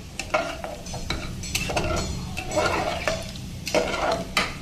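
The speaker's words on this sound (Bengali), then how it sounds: "এবারে নেড়ে চেড়ে হতে দেবো হলুদটা মিশিয়ে দেবো" Lentils and pumpkin with turmeric being stirred in a pan, a spatula scraping and clinking against the metal in irregular strokes over a soft sizzle, close up with no talk.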